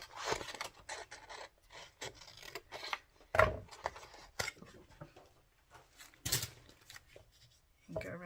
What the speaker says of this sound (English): so I'm just going to cut this off.